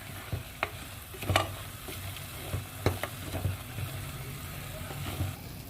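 Chicken masala being stirred and fried in a pan for chicken curry, with a steady low sizzle and irregular scraping stir strokes close by, no talk.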